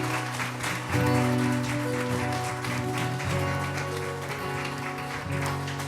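A church congregation claps loudly for the Lord, steady dense applause running the whole time over sustained organ or keyboard chords, with no talk on top.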